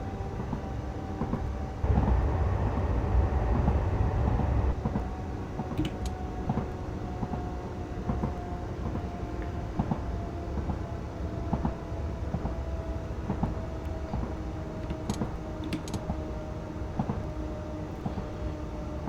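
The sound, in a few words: JR West 103 Series train running on rails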